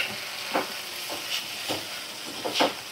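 A spicy sauce stirred in a frying pan, heard as soft, rhythmic scraping strokes over a low, steady sizzle.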